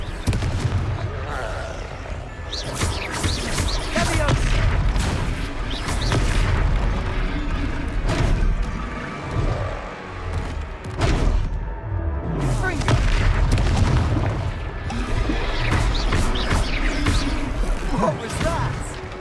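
Repeated booming blasts from the Confringo fire spell in the Hogwarts Legacy game, dense and loud throughout with a continuous thick low rumble, interspersed with sharper cracks and some game voices talking.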